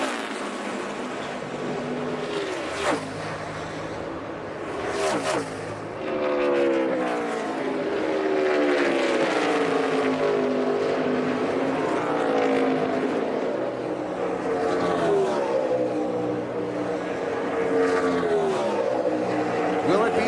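NASCAR stock cars race at the Indianapolis Brickyard in a two-car fight to the finish, engines roaring and sweeping in pitch as they pass, under continuous excited race commentary.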